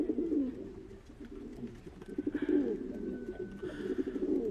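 Roots-breed pigeons coo up close, giving repeated low throaty rolling calls in rhythmic phrases with a faint high tone in the background, and no talk over them.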